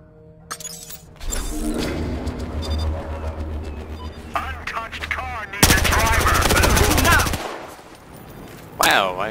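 MAC-10 fire in the video game Battlefield Hardline comes in rapid automatic bursts, with one long sustained volley midway and glass-like shattering between shots. Other game effects sound around it, along with brief snatches of voice.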